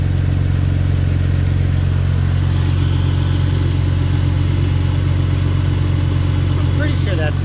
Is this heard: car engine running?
yes